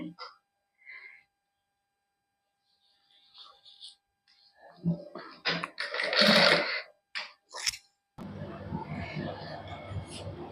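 A sewing machine stitches fine lace onto the neckline of a suit with a matching fabric patch. Soft scattered handling and rustling come first, then a steady close motor whir starts near the end.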